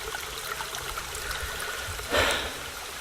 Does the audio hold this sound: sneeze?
no